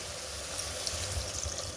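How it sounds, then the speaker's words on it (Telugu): Water pours steadily into a pot of mutton curry with a continuous splashing rush and no pauses. "గ్రేవీకి సరిపడేంత వాటర్ వేస్తున్నాను నేను"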